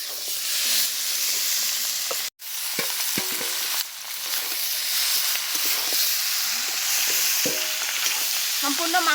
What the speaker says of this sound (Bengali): এবারে আমি মাংসটা দিয়ে দেব।